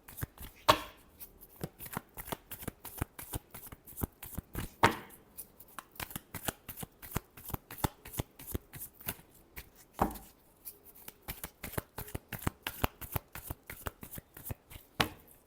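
A deck of tarot cards is shuffled by hand in quick, rhythmic, crisp flicks and riffles, close to the microphone, with a few louder slaps between runs and no speech.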